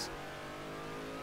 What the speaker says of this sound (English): What I've got, if you can probably hear it in the background, is the Ford Falcon Racing V8 engine